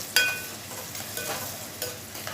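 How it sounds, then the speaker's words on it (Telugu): Chopped onion pieces stirred as they fry in a pan, with a steady close sizzle and soft scraping strokes of the spoon, plus a sharp clack at the start. "తిప్పుకుంటున్నాను కదా ఉల్లిపాయ ముక్కలు వేగిన తర్వాత"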